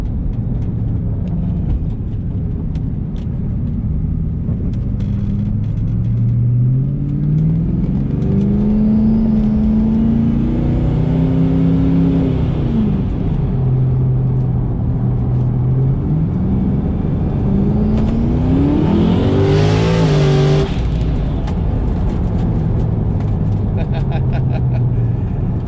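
A TTSaleen with new billet turbos accelerates hard on a cool day, its engine note climbing and dropping through several pulls close to the listener, ending in a loud surge and rush of turbo air.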